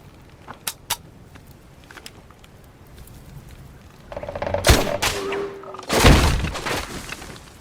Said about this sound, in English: demonstrate the weapon on single shot